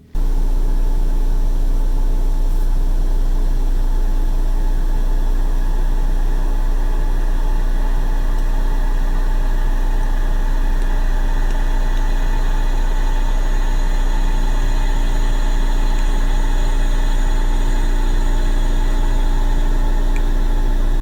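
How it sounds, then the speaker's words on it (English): A steady, broadband hiss from a Tesla Model Y's heat-pump air conditioner runs unbroken for about twenty seconds, even and moderately loud, with a low hum beneath and no voices. "I had also noticed that the Model Y's air conditioner was louder than the Model 3's. It kind of made this hissing noise"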